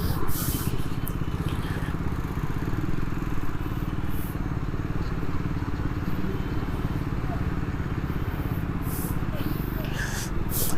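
A Triumph Scrambler 400X motorcycle engine idles slightly high, a steady, even low rumble running unbroken throughout with faint clatter above it.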